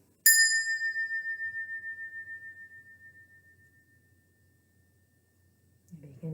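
A single bell is struck once, ringing out with a bright clear tone that slowly fades into silence, and a voice starts speaking near the end.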